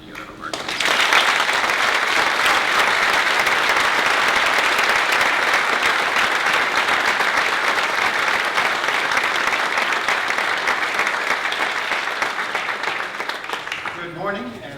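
Audience at Hobart and William Smith Colleges applauds to welcome Neil Conan and Ken Bruton, a dense, steady wall of clapping that holds loud for about fourteen seconds before tapering slightly at the end.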